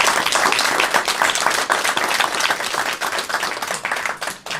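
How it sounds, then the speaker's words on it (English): Sustained audience applause at a Root KSK key-signing ceremony, dense even clapping from many hands filling the room steadily from start to finish, fairly loud and close, with no voices over it. "I want to applaud them."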